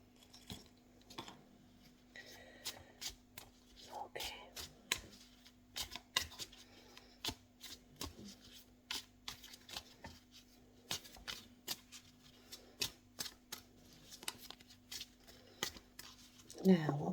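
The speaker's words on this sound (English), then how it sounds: "give them a good shuffle" A deck of horror-themed oracle cards is shuffled close to the microphone in a quiet ASMR setting, with repeated crisp riffling snaps and soft card slides in an irregular rhythm, faint and intimate throughout.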